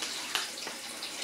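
Water running steadily from a kitchen tap over a spoon, a soft continuous splashing hiss with a couple of small clinks.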